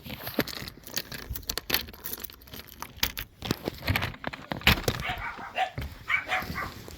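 Dogs bark at a gate in uneven bursts at middle distance, mixed with metallic rattling and jangling close by. No one speaks.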